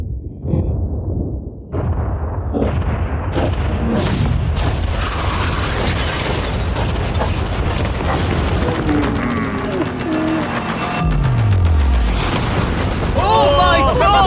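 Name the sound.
explosion set off to blow up a yacht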